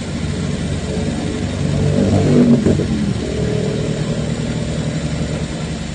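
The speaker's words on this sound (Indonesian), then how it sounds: "Mobil Grand Max mogok di Balai Rantai, kita tarik pakai mobil L300." A Mitsubishi L300 pickup engine revs while towing a broken-down Grand Max on a mountain road, a loud, close drone that swells to a peak midway and then settles back into a steady hum.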